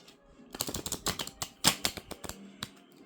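Tarot cards being shuffled by hand, a series of crisp, irregular papery flicks and snaps at close range, with one sharper riffle near the middle and no voices.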